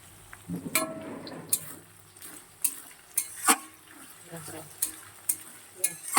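Onion and tomato frying in a pan, a low sizzle broken by sharp, irregular clinks and scrapes of a spatula stirring.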